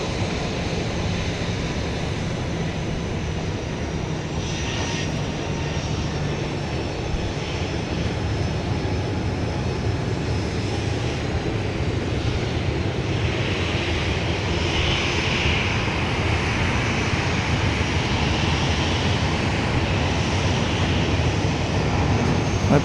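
A Boeing 737-800 taking off from Dallas Love Field, a sustained loud jet engine roar that holds steady and swells slightly as the plane powers down the runway.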